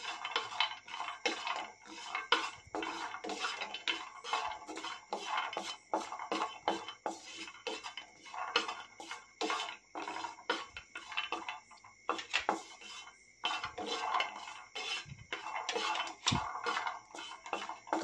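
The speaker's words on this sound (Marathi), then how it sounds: "त्यानंतर आपण काजू, पिस्ता आणि किशमिश, भाजून घेणार आहोत" Cashews, pistachios and raisins roast in a pan for a Ganesh Chaturthi panchakhadya offering, giving a steady run of close, dry clinks and scrapes of utensil on metal with no voices.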